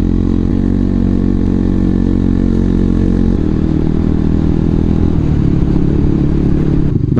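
A KTM Duke 125 motorcycle engine drones loud and close while riding through the Gerês countryside, a continuous rough buzz with a gear or throttle change partway through and no speech.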